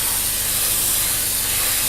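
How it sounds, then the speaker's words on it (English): An airbrush at about 30 psi sprays grey Tamiya XF80 paint thinned 50/50 over a 1/48 F-16 Falcon model kit, a steady close, loud hiss of air with no pauses. "I've got some XF80 here, 50/50 with Tamiya, about 30 psi, and we're just going to spray the entire model."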